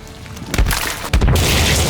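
A sticky bomb goes off in a cave in the video game The Forest: two heavy booming blasts about half a second apart, followed by a rushing debris-like hiss, loud and close.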